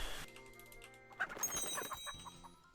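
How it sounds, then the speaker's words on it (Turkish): A chicken clucks in the video game Alt F4, an Only Up-style climbing game, in a short run of quiet, choppy clucks over a low game hum. "Tavuk oldum."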